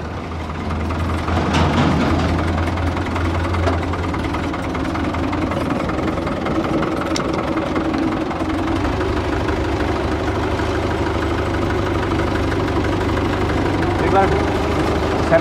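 A big, heavy tractor engine idling steadily throughout, a low continuous rumble with a knocking vibration, while people talk nearby.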